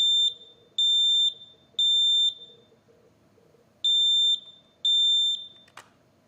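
A Kidde NightHawk smoke detector sounding its alarm, loud piercing beeps in a temporal pattern of three long tones, a pause, then two more, over a low background hum with no talk.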